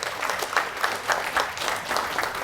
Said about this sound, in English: So I'd like to give Power a real round of applause and express our appreciation to them.